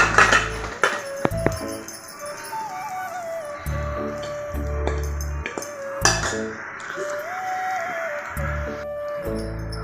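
Fried masala idli lifted from a pan and moved to another dish in a home kitchen: intermittent metallic clinks and scrapes of a utensil against the pan, with a steady low sizzle underneath.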